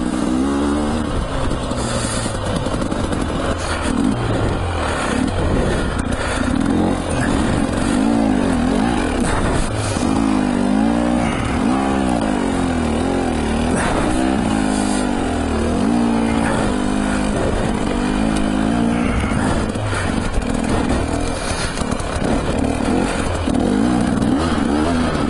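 An enduro motorcycle engine labours up a very steep hillside trail on a first autumn day in Euskadi, revving hard and loud in continuous rising and falling surges with clatter from the machine.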